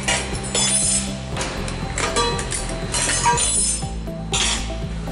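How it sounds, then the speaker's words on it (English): A metal conveyor end cap tab is bent back and forth with a crescent wrench, producing repeated sharp metallic clinks and creaks in an irregular rhythm at close range, with no talking. "Just use a crescent wrench and bend this back and forth until it snaps off."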